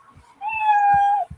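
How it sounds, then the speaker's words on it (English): A single clear cat meow rises and holds for under a second, loud and close, used as a cue that a comedian's minute on stage is up, with faint soft thumps around it. "you're going to hear the sound of a kitty."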